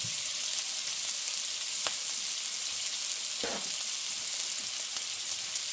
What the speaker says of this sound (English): I'm just going to sear it and then taste it.